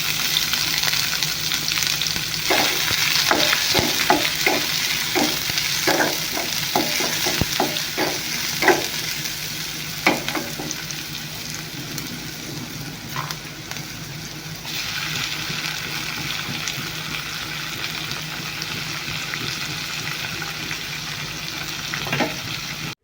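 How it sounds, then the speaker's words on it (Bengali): Onion, green chili and chopped tomato fry in a pan as the base for a soup, giving a steady close sizzle with scattered stirring clinks and scrapes throughout, and no talking. "পেঁয়াজ কাঁচা লঙ্কাটা একটু ভাজা করে তারপর টমেটো কুচি দিয়ে দিয়েছি।"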